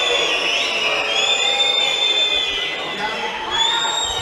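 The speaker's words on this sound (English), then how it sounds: "The crowd perhaps a little unfairly booing him" An arena crowd at the 2019 Budapest World Championship men's team sabre match, Hungary against Korea, boos a fencer in a continuous loud roar of mixed voices with some whistles and shouts riding on top.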